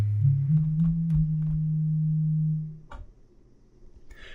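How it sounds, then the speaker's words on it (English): A pure, low sine-wave tone from a software synthesizer holds steadily for a few seconds, with faint clicks over it, then abruptly cuts out. "Now we have a basic sine wave."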